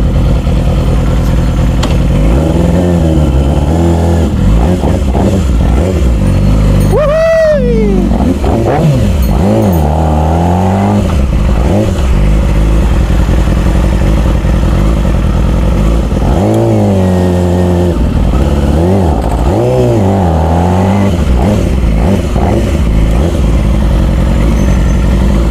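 A big motorcycle engine idles loudly and close, with repeated revving swells rising and falling over a steady rumble, and a voice speaks briefly beneath the engine.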